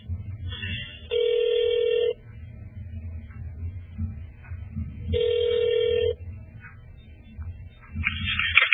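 A telephone rings twice in long, even bursts about four seconds apart while a call is transferred to an extension at a court administration office, with low line hiss between rings and a short burst of noise at the end.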